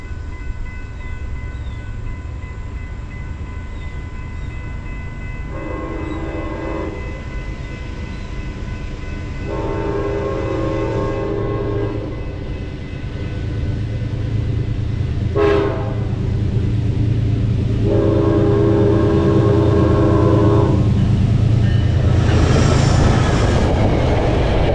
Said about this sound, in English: the New York Central Heritage Unit number 211 is seen again as it leads Metro-North train 1844 over the Perry Avenue crossing northbound towards Danbury